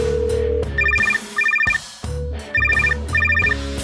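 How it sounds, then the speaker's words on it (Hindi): A telephone rings in repeated bursts of a bright electronic ringtone, loud and close, pausing briefly between rings with no one answering or talking. "फोन बजने की भी आवाज आ रही है और उठाया नहीं।"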